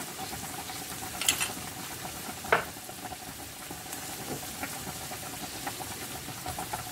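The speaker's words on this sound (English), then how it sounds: "Put 250 grams of minced meat. Fry in the pan until it is half cooked." Faint sizzling of 250 grams of minced meat frying in a pan, a soft continuous crackle broken by a few brief clinks and scrapes.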